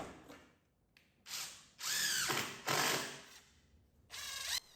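Cordless drill driving screws into a clamped wooden half lap joint for a simple loveseat frame, several loud whirring bursts with pauses between, each rising and stopping abruptly, close by.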